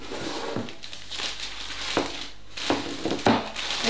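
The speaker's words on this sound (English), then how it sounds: "put it into a large plastic bag." A large plastic bag crinkles and rustles up close around bread dough, with several sharper crunches and handling bursts scattered through, no talking.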